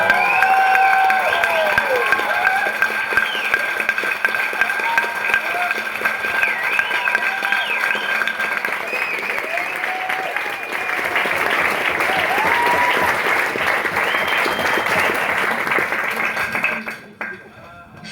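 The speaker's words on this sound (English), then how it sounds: "And I really think he deserves a round of applause." Diners applaud a chef after a family meal, steady clapping with some cheering carrying on for a long stretch while voices and tonal sounds ring over it, fading out at the very end.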